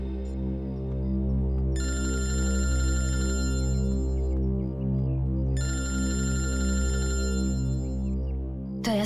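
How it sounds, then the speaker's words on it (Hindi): A telephone rings in two long electronic bursts separated by a pause, bright and steady over a low continuous hum, with no voices. "दया सर का फोन?"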